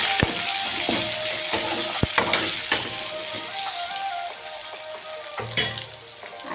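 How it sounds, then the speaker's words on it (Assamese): Chopped tomatoes fry in a pan after onion and garlic, giving a steady, close sizzle with occasional sharp pops and spatula clicks against the pan. "বিলাহীখিনি অলপ ভাজি ল'ম।"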